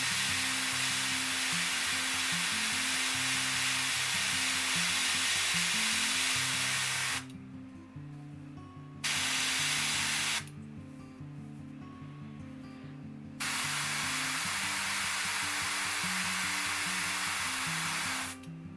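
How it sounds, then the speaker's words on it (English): Airbrush spraying paint onto a miniature figure: a loud, continuous hissing spray in long bursts, cutting out for a few seconds twice before resuming, with a faint underlying hum. "I'm going to spray nearly all of the blue out because I don't really want that much blue in it"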